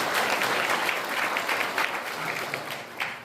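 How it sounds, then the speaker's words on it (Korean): Audience applause at a Korean Provisional Government commemoration ceremony, a dense sustained round of clapping from a large crowd that holds steady and starts to thin near the end. "귀한 말씀 주신 경기도 김성중 행정 제1부지사님께 다시 한번 큰 박수 부탁드리겠습니다"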